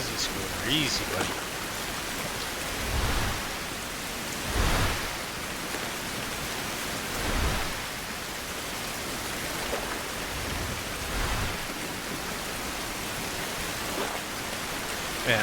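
Continuous rain in the video game Survival: Fountain of Youth on Crocodile Island, a dense even hiss with periodic soft low thumps and swells every few seconds, while a voice talks intermittently over it.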